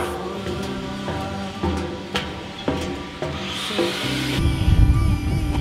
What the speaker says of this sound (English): We'll give them a flapper down and get them nice and clean now.